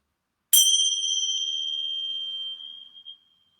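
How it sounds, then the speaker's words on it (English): A single bell is rung once, giving a bright, clear strike whose ringing tone lingers and slowly fades over about three seconds, close by and alone. "And we'll start with the bell, of course."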